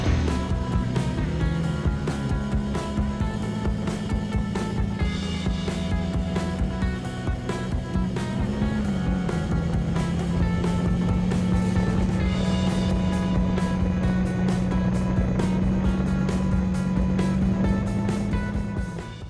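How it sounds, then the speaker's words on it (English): A motorcycle ridden by a female rider drones steadily for about twenty seconds, its engine pitch holding a sustained hum that shifts slightly midway and then levels off, loud and close with no speech. "Time to ride a motorcycle."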